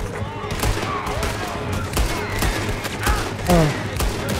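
Red Dead Redemption 2 gunfire: a rapid flurry of close, punchy shots with several heavy bangs comes in irregular bursts, loud and dense over other game noise.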